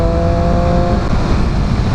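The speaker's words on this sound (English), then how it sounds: "engine just sounds so good" A 2018 Triumph Street Triple 765RS motorcycle engine pulling in a high gear, a loud continuous droning roar heard close up and steady throughout.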